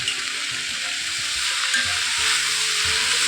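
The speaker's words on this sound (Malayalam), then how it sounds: "എന്നിട്ട് നന്നായിട്ട് ഉപ്പ് ചേർത്തിട്ട് നന്നായിട്ട് ഇളക്കി കൊടുത്തിട്ട്" Mixed vegetable sabzi sizzling in a pan as salt is stirred through it, a constant close frying hiss with intermittent soft scraping stirs and no talk.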